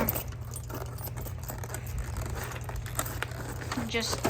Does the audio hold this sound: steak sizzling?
no